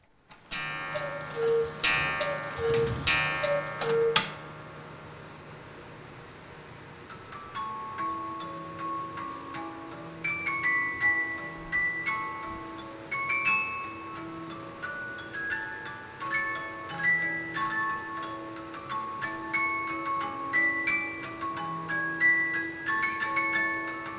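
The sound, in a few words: big cuckoo clock with dancing figures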